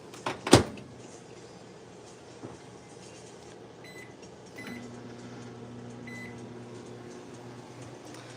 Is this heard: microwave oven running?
yes